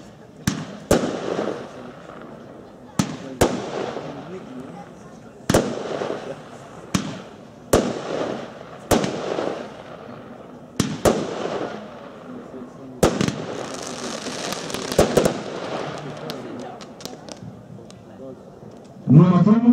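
A Satellite Flash firework fired for New Year's: a series of sharp, loud flash bangs spaced a second or two apart, ending in a dense rapid cluster of bursts, with faint voices in the background.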